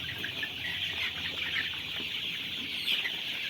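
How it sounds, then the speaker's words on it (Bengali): Farm chickens let out into the open cluck in a steady, busy murmur of overlapping calls, at moderate distance and without talk. "এই যে দেখুন অনেকটা মুরগি বেরিয়ে গেছে। এই যে কত মুরগি বেরালছে।"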